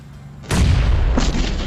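A grenade blast in PUBG Mobile: one sudden deep boom that starts after a quiet moment and rolls into a loud, sustained rumble with a second thump, heard close and with no talk over it.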